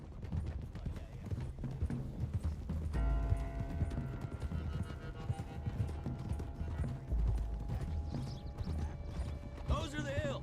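Horse hooves galloping in a western video game, a steady rapid clip-clop running under in-game voices and music, with a brief whinny near the end.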